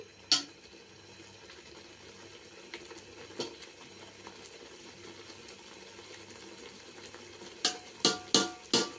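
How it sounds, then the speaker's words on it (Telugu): Chicken pieces stirred in sizzling masala for chicken sherva, a soft continuous fry under scattered scrapes, ending in a run of sharp, loud spoon knocks against the pan. "ఇలా అప్పుడప్పుడు ఈ పీసులన్నీ ఇలా తిప్పుకుంటూ ఉండాలండి"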